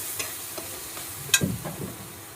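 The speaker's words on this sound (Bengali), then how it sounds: "এবার সবগুলো মশলাকে একসঙ্গে ভালো করে মশলার সঙ্গে কষিয়ে নিতে হবে।" Spices being stir-fried in oil for a boal fish curry, with a soft sizzle and a few quiet stirring scrapes and clinks, close by and fairly faint, no talking.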